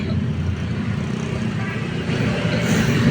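Heavy road traffic in Quezon City forms a constant rumbling wash of car and engine noise, steady and fairly loud throughout with no clear individual vehicle passing.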